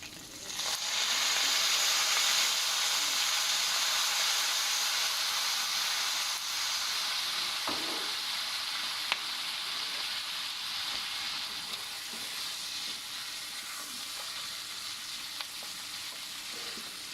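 Garlic that is turning golden fries in a pan as soy sauce goes in, a loud, steady sizzle and hiss that holds for a long stretch and eases slightly, with no talk.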